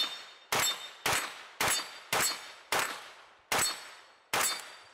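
Kalashnikov KP-9 rounds strike a steel dueling tree target, producing seven sharp metallic clangs at roughly even intervals, each ringing briefly before fading, loud and alone.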